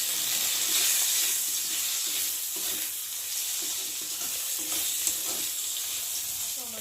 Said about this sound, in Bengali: ওই তেলের মধ্যে বেগুনগুলো ভালো করে ভেজে নিলাম।